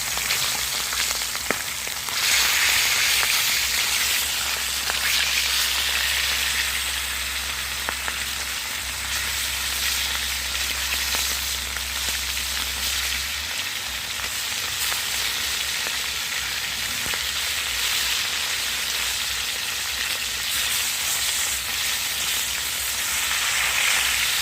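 Potatoes and cheese fry in a pan for a country breakfast, giving a steady, dense sizzle and crackle that runs the whole time with a low rumble underneath, close and loud, with no voices.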